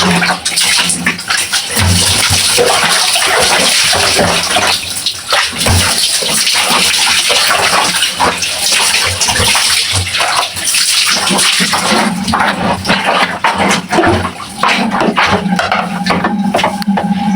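Water splashes and sloshes continuously during a final rinse of hand-washed laundry, a steady close wet churning with irregular slaps throughout.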